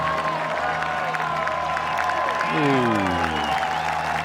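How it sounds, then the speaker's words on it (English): A golf gallery at the 142nd Open Championship roars and applauds, a broad swelling crowd noise that grows louder toward the end, with a voice exclaiming over it. "The crowd's roar."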